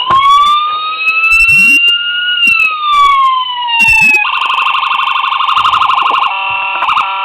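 A siren on a 1:24 scale model Iowa State Patrol Dodge Charger Pursuit wails in long rising and falling sweeps, then switches to a rapid warbling yelp, loud and close with no voices.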